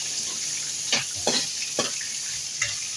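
Tomatoes frying in a pan while being stirred, with a steady sizzle underneath and several brief scraping strokes of the spoon at irregular intervals, close and moderately quiet.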